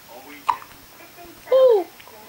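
A young child hiccups with a brief sharp catch, followed a moment later by a louder voiced squeak or babble, close to the microphone in a quiet room.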